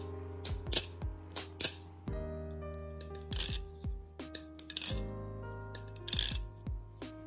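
Armed Shark Nautilus V2 balisong trainer being flipped, a quick series of sharp metallic clicks and rattling clacks in uneven bursts, close and fairly quiet with no talking.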